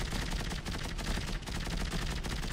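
Rapid, sustained gunfire from weapons in the sci-fi horror game Dead Space 3, played in co-op mode, a loud continuous stream of closely spaced shots with no talking over it.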